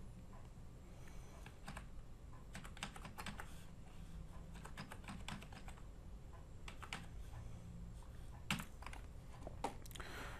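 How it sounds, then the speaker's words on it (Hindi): An ID card number typed on a computer keyboard, heard as quick irregular clusters of key clicks over a low background hum. "फिर दोबारा रीटाइप आईडी कार्ड नंबर"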